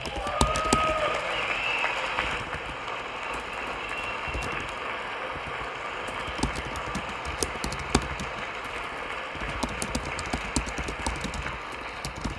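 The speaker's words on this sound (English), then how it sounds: "I wasn't sure if anybody even on this side was going to applaud for that." Members of Congress applaud during a presidential State of the Union address, a steady roomful of clapping that carries on evenly from start to end, with a few louder claps standing out.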